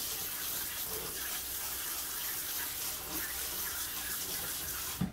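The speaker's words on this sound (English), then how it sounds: "Let's get some fresh water in my sprayer." Steady rush of tap water from a sprayer over cooked chicken being cooled for chicken noodle soup, a continuous close hiss and splash with no talking.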